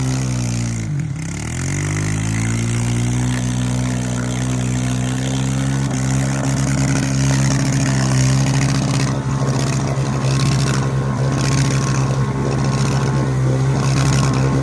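A Honda 300 6x6 ATV under steady throttle, a loud, close, continuous engine drone that dips briefly near the start and then holds a strong, even pitch for over ten seconds.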